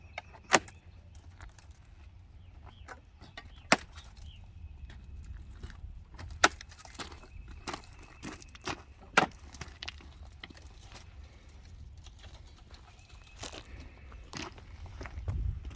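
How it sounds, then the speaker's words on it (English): A Benchmade Damas 275 knife cuts the bands on a huge roll of 2-inch poly pipe outdoors, giving sharp isolated snaps and clicks scattered over a low background rumble, close and without talk. "I'm going to cut some bands loose, one stage of bands"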